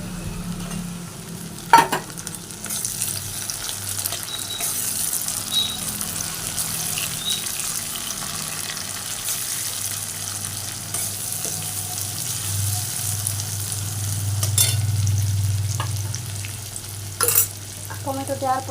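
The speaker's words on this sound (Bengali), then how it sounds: "পেঁয়াজটা ভাজা হয়ে এসছে" Onions fry in oil in a pan with bay leaves and a little sugar, giving a soft, steady sizzle with occasional scraping stirs and clinks, swelling louder near the end, no talk.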